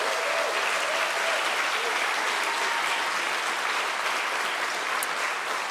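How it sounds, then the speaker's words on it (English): Applause at an MBA graduation ceremony, dense and sustained, a full hall clapping steadily at even loudness throughout. "First round of applause."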